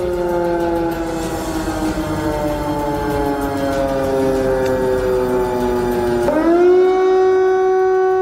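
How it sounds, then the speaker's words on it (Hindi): Air raid sirens wailing across Ukrainian cities during missile attacks, a loud sustained rising-and-falling civil defense tone with layered harmonics that dips and swells again near the end, with no voices. "जो सायरन आप सुन रहे हैं ये कई ऐसे शहर हैं जहां पर बजाए जा रहे हैं मिसाइलों के हमले"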